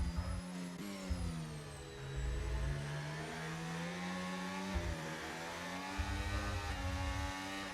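Formula 1 cars racing in the F1 25 video game, a loud sustained engine whine with smoothly rising and falling pitch as the cars accelerate and shift, several engines overlapping continuously with no talk.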